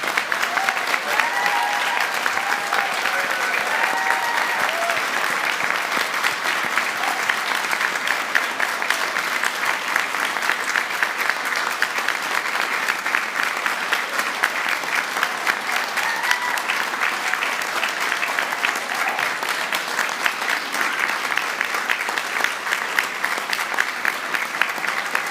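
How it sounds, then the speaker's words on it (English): Sustained applause from a large audience greeting graduates at a university degree ceremony in Dublin, a dense, steady wash of clapping that holds at even volume for the whole stretch with no speech over it. "let's start today's celebration by giving all of our amazing graduates a huge round of applause."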